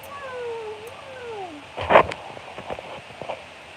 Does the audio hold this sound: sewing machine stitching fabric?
no